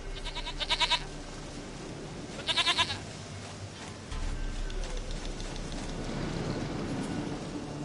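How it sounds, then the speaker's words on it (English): A goat in The Witcher 3: Wild Hunt bleats in two short wavering bursts, separated by a pause, over a steady ambient background of rain-like hiss. "Goat of mine, dearest, sweetest goat."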